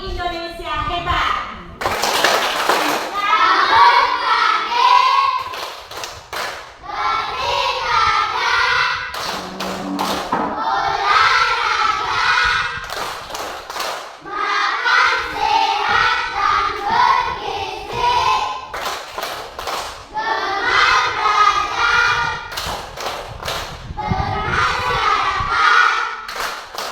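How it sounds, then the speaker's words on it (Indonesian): A group of Indonesian children chant a clap song, their voices rising together in rhythmic bursts. Sharp hand claps punctuate each phrase, with short pauses between the repeated verses. "Tepuk 7 kebiasaan anak Indonesia hebat."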